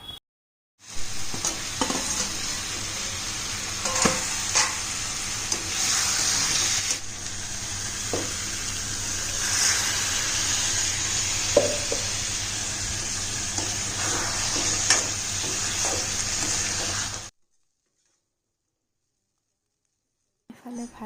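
Vegetable bhaji fries in a pan with a steady, close sizzle and frequent stirring scrapes for about sixteen seconds, then cuts to silence.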